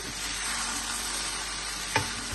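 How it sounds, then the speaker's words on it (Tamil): Rice being stirred lightly across the top of a pot of vegetable biryani, a steady soft sizzle and scrape running under one brief louder clink near the end, no voices. "இப்படி மேலாக லைட்டாக கிளறி விட்டால் சரி"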